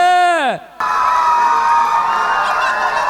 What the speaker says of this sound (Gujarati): તો એમના માટે જબરદસ્ત તાળીઓ થઈ જાય।